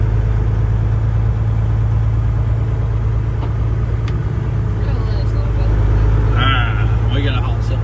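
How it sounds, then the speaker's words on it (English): A haul truck's engine runs at a steady idle at a mine excavator job site, a constant low drone throughout, with people talking over it. "Oh, they got a haul truck here."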